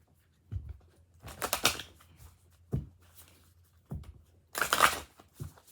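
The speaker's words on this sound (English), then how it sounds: "So let's pre-shuffle." Oracle cards being shuffled by hand in several separate bursts, crisp riffling and flicking sounds with short soft thumps between them, close and alone without talk.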